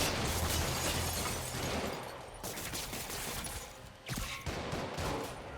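Rapid bursts of gunfire and explosions from the video game Marvel's Spider-Man crackle continuously, dense and loud, with a brief lull before the shooting resumes.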